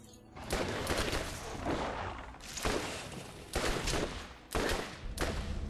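Shotgun and other gunfire in the video game Borderlands, with heavy blasts arriving in irregular bursts every second or so, loud and close, with a constant noisy background between shots.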